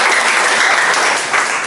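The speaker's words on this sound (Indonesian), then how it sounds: "tepuk tangan buat kita semua" Loud, dense applause from a crowd at a lecturer certification session, continuous clapping that fills the room without a break.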